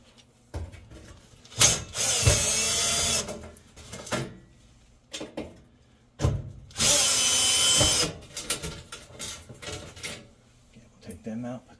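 A power drill backs out screws from the burner tray of a Samsung gas oven, two long loud whirring runs with shorter bursts and handling clatter between them, close up, with someone talking in between.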